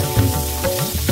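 Crabs fry in hot oil with a steady close sizzle and brief stirring scrapes, loud and continuous.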